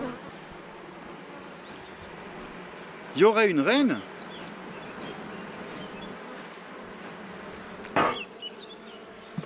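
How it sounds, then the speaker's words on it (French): A steady background hum of many buzzing honeybees at an apiary, with a person speaking briefly in French over it and a short louder burst later. "Oh, ça bourdonne sec."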